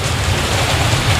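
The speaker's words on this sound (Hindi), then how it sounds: "देखते देखते बारिश की धारें बरसने लगी।" Heavy rain pours during a storm as a dense, loud, steady wash of hiss and rumble filling the short stretch, with no voices.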